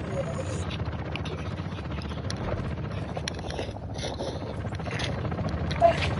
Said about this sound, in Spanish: El helicóptero se quedó solo aquí